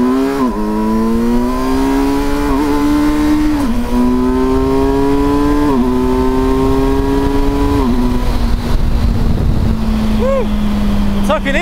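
An adventure motorcycle pulls hard and loud, its engine note rising through several gear changes in steady steps, with wind rush building beneath it.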